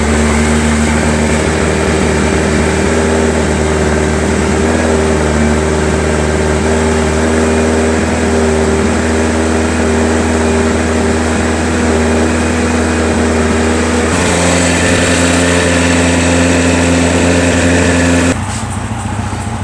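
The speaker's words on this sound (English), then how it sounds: "So what we have to do now is start the bike and warm it up" A Yamaha XJR1200 motorcycle engine running and warming up, a loud, close, steady idle drone that shifts pitch slightly near the end.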